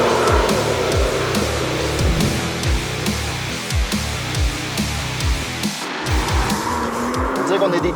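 A 2017 Nissan GT-R sports car driving at speed, its engine droning steadily with repeated rising revs and gear changes, heard from inside the cabin and loud, with someone talking over it.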